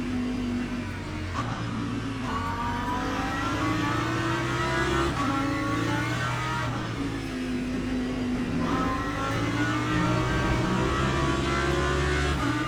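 Race car engines roar at Spa in the Le Mans Ultimate sim racing game, among them a BMW. Loud, continuous engine drone rises and falls in pitch through repeated gear shifts and acceleration.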